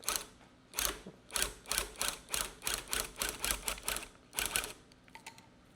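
A Cozytuft beginner tufting gun runs in a string of rapid mechanical bursts, about a dozen short clattering pulses in quick rhythm with brief gaps, close and fairly loud, with no talking.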